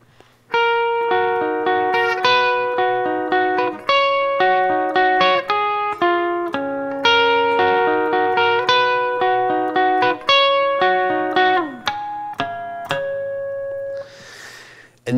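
Electric guitar plays the two combined parts of a song, a steady stream of chiming picked notes and harmonics ringing over each other with effects, continuous and alone until a brief noise at the end.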